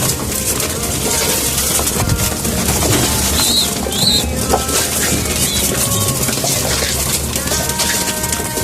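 Racing pigeons coo and flutter while feeding, dense and close, with a busy continuous layer of soft calls and a few brighter chirps.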